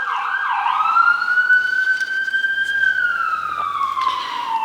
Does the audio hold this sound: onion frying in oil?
no